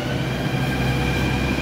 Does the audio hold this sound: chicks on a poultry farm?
no